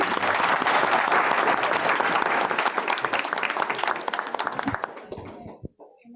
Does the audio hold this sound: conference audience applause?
yes